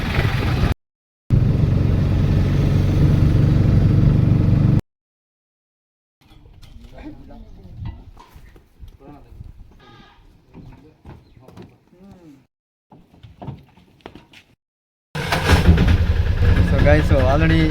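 A vehicle drives on the Mysore–Bangalore highway, with loud, steady road and engine rumble at the start and end. Quiet gaps and a stretch of people talking come in between.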